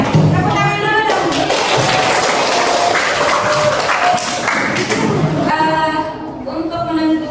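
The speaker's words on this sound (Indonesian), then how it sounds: "Tepuk tangan dulu dong." Hands clapping together in a classroom-style group, a dense loud patter of many claps filling the clip with voices and chatter mixed in underneath.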